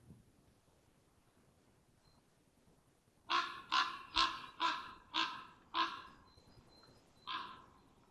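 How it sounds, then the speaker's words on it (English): A raven gives a run of deep, raspy croaks, about seven spaced calls in quick succession, moderately loud against a quiet background. "what sets the raven apart is that they have a much deeper, much croakier call"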